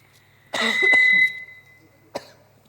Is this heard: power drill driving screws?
no